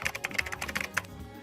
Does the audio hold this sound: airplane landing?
no